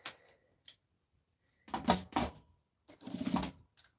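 A sewing machine stitches a half-moon fabric pencil case in a few short bursts, each a close, brief rattling run separated by quiet pauses, with faint taps in between.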